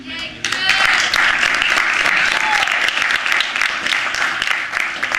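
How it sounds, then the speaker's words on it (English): Loud, dense applause from a theater audience for the backstage crew of a stage production of The 39 Steps, rising abruptly and sustained throughout, with some voices mixed in. "A round of applause for our crew."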